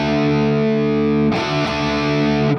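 A distorted electric guitar plays through a Valeton GP-5 multi-effects unit on a JCM 800 amp preset with a 4x12 cabinet: a sustained, thick chord, then a fresh strum of crunchy notes, loud and close, with no talking.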